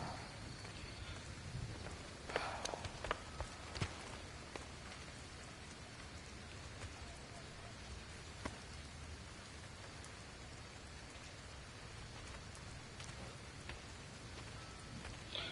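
Steady rain falling in the video game Gotham Knights on PS5, a continuous broadband hiss with a few brief spikes of louder drops, fairly loud and even throughout with no voices.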